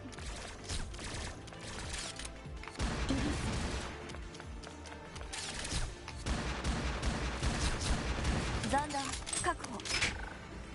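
Turrets fire rapid, dense gunfire bursts in the video game Crymachina, loud and continuous for the whole stretch, mixed with other battle noise and voices.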